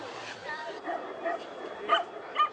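Tibetan dogs at a breeders' contest, with several short barks and yips rising from a busy, chattering crowd of people, the calls scattered and moderately near.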